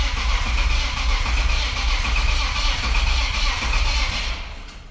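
A BMW E46 wagon, freshly swapped to a manual gearbox and newly tuned, running steadily at close range with a loud, continuous engine drone that holds for several seconds before easing off at the end.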